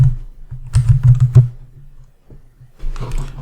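Typing on a computer keyboard, entering a search into a web browser: a close, brisk burst of clicking keystrokes, a short pause with a few light taps, then another flurry of keys.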